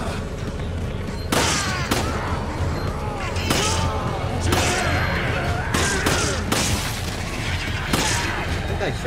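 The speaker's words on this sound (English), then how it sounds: "I think I shot someone in the head." Repeated gunshots ring out in Resident Evil 5 co-op play, a series of loud, sharp bursts spaced a second or two apart over constant game noise, with voices talking throughout.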